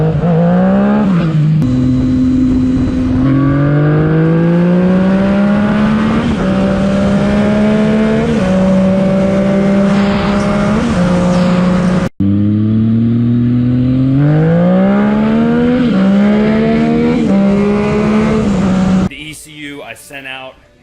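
A 2014 Yamaha FZ-09 motorcycle tuned by a Florida specialist, its engine revving loud and close in repeated rising sweeps, cutting off briefly and climbing again before ending abruptly.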